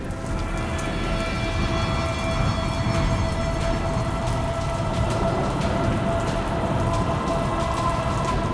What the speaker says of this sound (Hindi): जो तेज हवा आ रही है, पानी की फुहारें अपने साथ लेकर आ रही है और ऊपर से बारिश की बूंदें